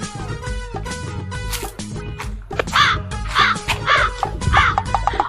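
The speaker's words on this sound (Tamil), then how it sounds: "காக்கா காக்கா இங்க வா" Crow cawing in a repeated series of harsh calls, fairly close and loud, over a busy background of music and other layered sound, with no talk heard.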